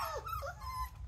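Mini Australian Shepherd puppies whimper and yip in short, high, wavering cries that overlap one another, close by and fairly quiet, with a low rumble beneath and no talk.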